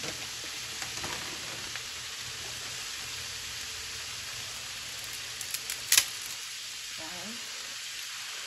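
Bihon rice noodles and vegetables sizzle steadily in a hot pan as they are stir-fried, a close, continuous crackling hiss with a few brief clatters near the end.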